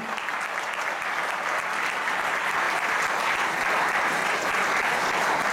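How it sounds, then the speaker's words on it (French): An audience applauding loudly and steadily, a dense, continuous roar of many hands clapping that holds at an even level from start to finish. "qu'on puisse l'applaudir très très fort"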